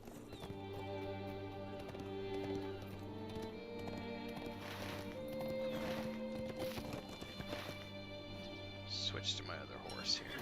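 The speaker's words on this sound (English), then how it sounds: "Switch to my other horse here." Horse hooves clip-clopping in the online game Lord of the Rings Online, a steady rhythmic patter of hoofbeats under soft background music and occasional talk.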